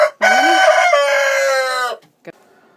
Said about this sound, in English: I'm letting the chickens out today